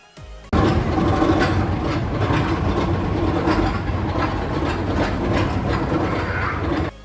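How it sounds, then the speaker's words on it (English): An Arrow Dynamics roller coaster train climbs its lift hill with a loud, steady clanking chain rumble and rhythmic clatter, close by and continuous, with no voices. "Classic sounds of an aerodynamics lift hill"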